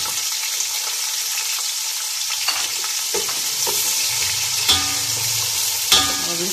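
Chopped onions, three medium ones, fry and get stirred in a pan, a steady close sizzle under scraping stir strokes that grow busier in the second half, with sharp spatula knocks near the end and no talk.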